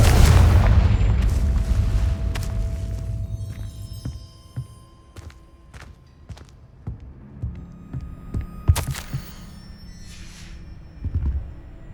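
A Confringo blasting spell detonates in Hogwarts Legacy with a loud, deep boom at the start, then fades into scattered crackles, pops and small bursts over a low rumble.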